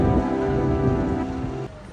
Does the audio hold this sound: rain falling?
yes